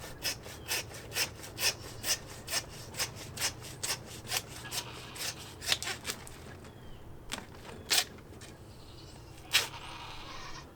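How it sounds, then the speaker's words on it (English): A hand saw cuts through pig bone during butchering with a steady run of about twenty rasping strokes, then slows to a few scattered strokes over a low background hum. "Only cut the bone with the saw, and then you can come in here and cut the fat and the meat with your knife."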